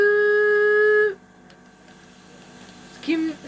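A voice imitates a running Dyson vacuum cleaner with a loud sustained hum lasting about a second, then quiet, then a brief renewed vocal tone.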